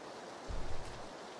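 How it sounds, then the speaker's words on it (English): Steady rain falls in the PlayerUnknown's Battlegrounds video game, a quiet, even hiss throughout with a brief low rumble swelling in the middle. "Very difficult to hear the bullets while dealing with rain."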